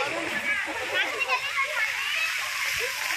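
Water splashing and spraying at a park fountain in Grand Central Park, Thane, where small children play in the water, a continuous near wash of splashes with children's voices and talk mixed in.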